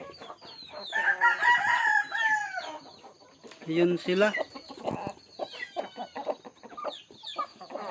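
Young chickens cluck and one gives a crowing call close by, with a person speaking briefly between the calls.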